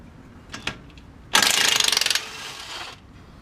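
Bolts come off a Camry wheel bearing: a couple of short metallic clicks, then a rapid ratcheting burst of about a second as a tool spins a bolt, close and fairly loud, ending in a quiet hum.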